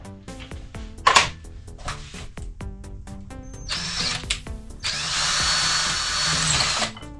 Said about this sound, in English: drill 2 holes